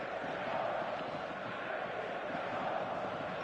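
Stadium crowd at a football match in a PS4 video game, a dense continuous roar of many voices at steady loudness, without distinct individual calls.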